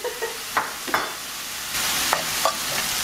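Onions and jalapeños with salt are tossed in a pan for bean and cheese tacos, making a few light scraping stirs over a steady soft sizzle, close by.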